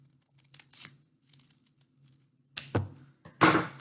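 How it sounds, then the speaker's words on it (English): Scissors snip through folded paper while rounding off the end of a paper triangle for a wycinanki cutout craft, giving quiet small clicks followed by two louder, close crisp cuts with paper rustle. "round off the end with the scissors"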